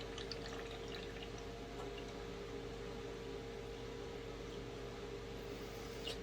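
Tap water runs steadily into the plastic water tank of a Dolce Gusto Mini Me coffee machine, a continuous low, even rush with faint splashing and no voices.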